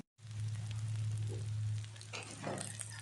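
Chapli kababs made with minced meat are frying in oil over medium heat, and the sizzle is steady and broadband. Near the end it grows a little uneven, with a low hum running underneath.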